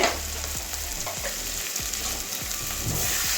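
Spices, green chillies and salt sizzle and fry in a pan for a catla fish curry with potato, pointed gourd and carrot, a steady close hiss broken by a few scraping stirs.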